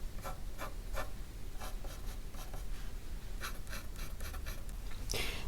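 Graphite from a mechanical pencil stroking hair strands onto paper, heard as a series of short, close scratchy strokes in an uneven rhythm, with a brief louder rub near the end.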